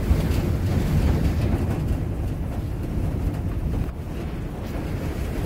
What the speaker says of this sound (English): Just a little windy here today.